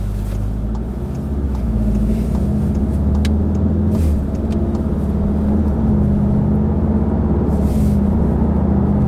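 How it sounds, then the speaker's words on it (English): 2017 VW Golf R with DSG gearbox accelerating in town, a steady engine drone and road rumble heard from inside the cabin that builds gradually, with no voices. "Now, I was expecting it to accelerate, now it's accelerating harder."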